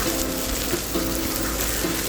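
Fried rice with meatballs and sausage stir-fries over high heat, a dense, loud, steady sizzle with a faint repeating hum beneath, close and continuous with no talking.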